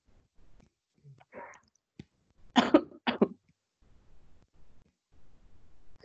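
Two or three sharp coughs ring out in a quiet room, preceded by a soft throat noise and followed by faint rustling.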